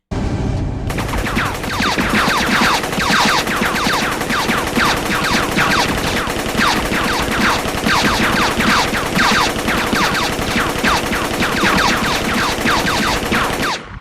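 Sustained, loud automatic gunfire from a played video clip, with rapid bursts of shots cracking one after another in a dense fusillade for the whole stretch and no talk over it.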